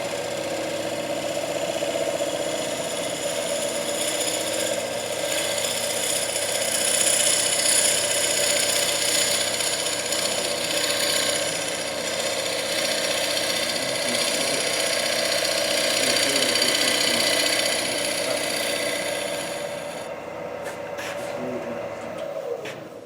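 A gouge on a wood lathe makes a double rubbing, uphill pushing cut across the curve of a bowl, a steady loud whirring, scraping drone that runs unbroken for most of the stretch before easing near the end.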